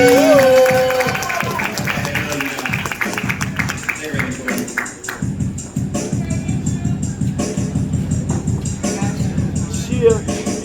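A live audience at a Milwaukee poetry event applauds and cheers as a poet is welcomed to the stage, with steady clapping, crowd noise and shuffling, and voices heard in the room throughout.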